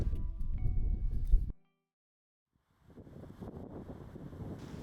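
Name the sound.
wind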